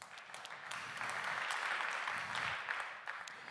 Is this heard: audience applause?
yes